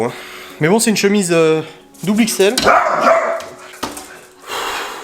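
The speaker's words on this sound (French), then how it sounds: "c'est un chien qui passait devant la maison" A dog passing outside the house barks a few sharp times and yips, heard between and under someone talking close by indoors.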